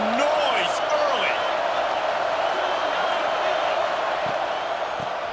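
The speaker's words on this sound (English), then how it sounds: "This crowd bringing the energy and noise early." Stadium crowd roar in the College Football 26 video game: a dense, steady wall of fans cheering and whooping, loud and continuous throughout, with a few brief thumps underneath.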